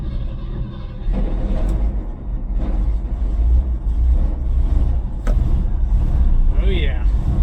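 Ford F-100 from a junkyard with its engine cranked by a starter jumper catches and runs, a loud close low rumble that holds steady throughout, with a brief squeal near the end.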